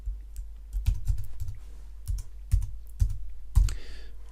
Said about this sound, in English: Now I'm now going to type something.